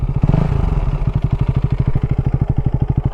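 Loud, close KTM Duke 250 motorcycle engine with a full aftermarket exhaust, a deep, rapid, even popping exhaust note, idling in a throaty rhythmic burble.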